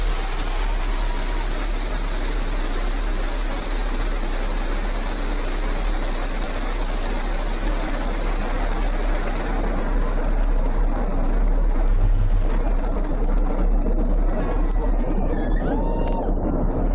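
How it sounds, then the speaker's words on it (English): Blue Origin New Shepard rocket engine at liftoff, a loud continuous rumbling roar with dense crackle that holds steady and then thins slightly toward the end, with faint broadcast voice traces underneath. "Liftoff. New Shepard has cleared the tower."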